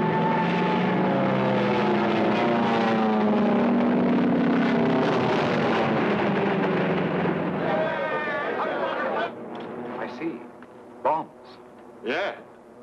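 A squadron of propeller aircraft drones loudly overhead on an attack run in a 1943 wartime film, the engine roar sweeping and fading, then giving way to sharp bursts like explosions or gunfire near the end.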